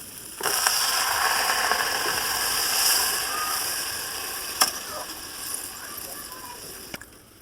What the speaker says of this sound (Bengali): এইবার সামান্যতম জল দিয়ে দিচ্ছি পরিমাণ মতো